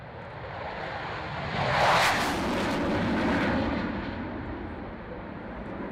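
A Czech Air Force Gripen jet in a flying display roars past, swelling into a loud broad rush that peaks and then slowly fades into a lingering distant rumble.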